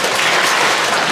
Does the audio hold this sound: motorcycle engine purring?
no